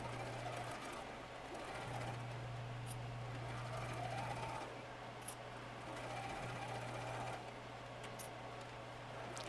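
A sewing machine steadily stitches the seams of a quilted hanging pocket organiser with a long stitch length, humming continuously and fairly softly with brief pauses and faint clicks.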